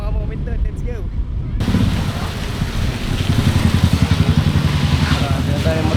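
A motorcycle being ridden on Bantayan Island, Cebu, with a loud, close engine rumble under wind noise. The engine's pulsing grows stronger partway through, and people talk over it.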